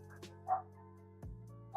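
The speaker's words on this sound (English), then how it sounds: "Sorry if you can hear my dog." A dog gives a few short, muffled barks in another room, faint and spaced apart over a steady low background hum.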